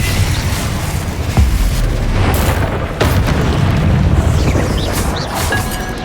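Confringo spell blasts in Hogwarts Legacy land as deep booming explosions amid continuous combat rumble, a few sharp bursts punctuating a loud, dense game soundscape without talking.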